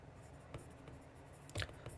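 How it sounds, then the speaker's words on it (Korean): Faint scratchy strokes of writing on a board come in a few short bursts with quiet gaps between, one stroke louder than the rest, and nobody speaks. "1번은 이렇게 써볼게요."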